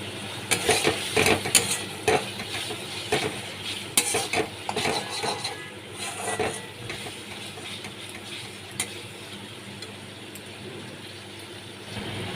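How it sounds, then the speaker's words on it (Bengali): Pieces of Bhola fish coated in mustard paste with kalonji are sautéed in a pan. Repeated clanks and scrapes of a spatula against the pan come in bursts over a soft sizzle that quiets toward the end. "আমি ভালো করে একটু কষিয়ে নিচ্ছি"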